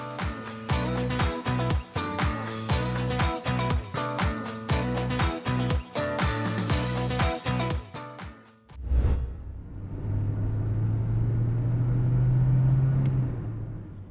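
A car engine growls and rises in pitch as the driver pulls away quickly after a botched parking attempt, following a stretch of loud rhythmic music that cuts off abruptly.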